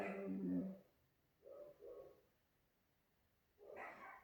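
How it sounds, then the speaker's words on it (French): Dogs bark in three short bursts, faint and somewhat distant, separated by quiet pauses, with no talk. "entendre mes chiens aboyer qui font leur vie"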